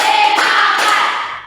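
Students in an Islamic religious education classroom clap in unison during an ice-breaking clap game, making a loud, continuous wash of claps with a couple of sharper accented beats that fade at the end.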